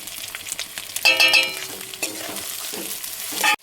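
Spices, chopped tomatoes and green chillies with turmeric, chilli powder and salt frying and being stirred in a pan for a fish curry, a steady close sizzle broken by scraping stirs and a few clinks, no voices.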